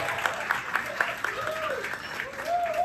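Applause from a comedy club audience at a stand-up show, dense steady clapping filling the room at moderate volume, with a faint voice rising and falling underneath.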